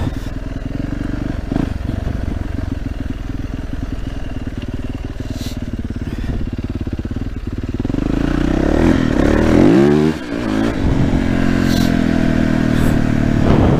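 A Yamaha 450YZF dirt bike engine drones steadily while riding through a forest, then revs up and down with rising and falling pitch sweeps, loud and close with some clattering over rough ground.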